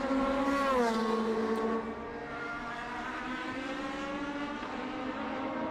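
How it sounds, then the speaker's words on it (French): Formula Atlantic race cars on a circuit at a Grand Prix event, engines whining at high revs with a pitch drop as a car passes, then a steady sustained drone of another car nearby. "Lesage, la voiture semble extrêmement bien préparée pour l'épreuve de Formule Atlantique."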